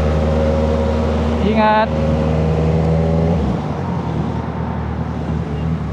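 A Kawasaki Z900 with a full-system exhaust roars close by at full throttle, holding a loud, steady engine note that rises through a quick gear change and then eases off, with a brief spoken word over it.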